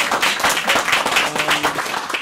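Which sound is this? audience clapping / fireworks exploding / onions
audience clapping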